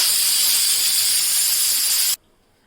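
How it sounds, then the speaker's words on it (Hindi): A pressure cooker boiling potatoes lets out a loud, steady jet of hissing steam for about two seconds, then cuts off abruptly into near silence. "यहाँ कुकर में आलू उबल रहे हैं।"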